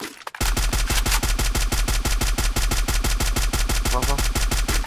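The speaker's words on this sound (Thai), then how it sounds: "รอมันยิงกันซะก่อน" Rapid automatic gunfire from the video game Free Fire, a dense unbroken string of sharp shots at a steady fast rhythm, loud and close for nearly five seconds.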